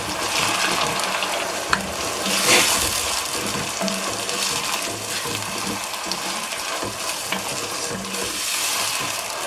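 Tomato cooking in a pot for egusi soup, a steady bubbling sizzle with occasional stirring scrapes and clinks, close and continuous.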